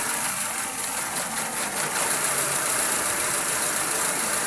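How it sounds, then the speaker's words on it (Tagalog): A Honda Civic engine misfiring at idle up close, a constant loud rumble with irregular shudders and knocking in the rhythm. "ang lakas ng palya ng makina"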